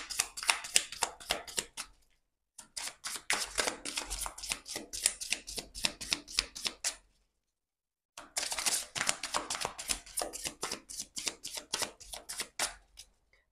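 Tarot cards are shuffled in rapid riffling bursts, a dense flutter of papery snaps in three runs split by short pauses, close and fairly quiet.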